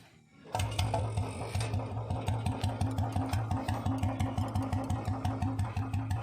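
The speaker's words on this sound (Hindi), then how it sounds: "इसकी आइडल साउंड है गाइस अपनी वाली से कम है, RPM स्लो है इस बाइक की" A modified Royal Enfield Bullet Standard motorcycle idles at low RPM with a loud, close, evenly spaced thumping beat that holds steady after a brief quiet opening.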